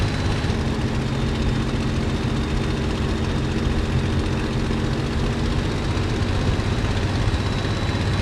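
A Messerschmitt Bf 109 propeller fighter in Microsoft Flight Simulator drones with a loud, steady engine and propeller roar throughout, constant and unbroken from inside the cockpit, with no voices.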